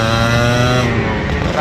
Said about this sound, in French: On peut entendre la moto, elle est froide hein